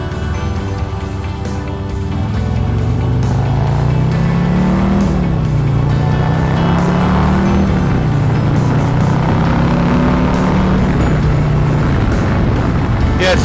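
A 2020 Harley-Davidson Road King Special motorcycle cruising at 65 mph, its engine a steady loud drone with rising and falling pitch through short shifts, mixed with constant wind rush.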